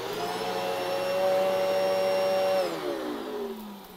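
An upright vacuum cleaner fitted with a new belt runs with a loud, steady whine and hum, then winds down as the motor is switched off, its pitch sliding lower near the end.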